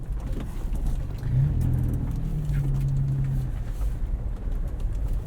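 A modified 2014 Toyota FJ Cruiser rolling down an unpaved back road, its engine a steady low rumble mixed with tire and road noise from inside the cab, with no voices.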